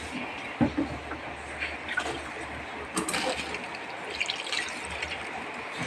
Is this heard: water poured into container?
yes